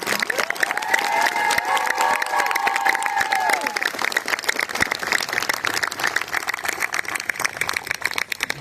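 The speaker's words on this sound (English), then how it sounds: "please join me in a round of applause for our recruiters, drill instructors, and the families who support them" A large crowd at a Marine Corps recruit graduation on the Parris Island parade deck applauds and cheers for recruiters, drill instructors and families, dense sustained clapping with shouts and whistles rising over it.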